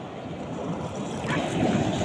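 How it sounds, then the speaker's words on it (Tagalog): Wind-buffeted rush of ocean waves surging and breaking, a steady broadband roar that swells slightly louder near the end, no voices. "Malakas yung alon ngayon."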